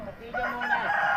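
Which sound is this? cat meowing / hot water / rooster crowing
rooster crowing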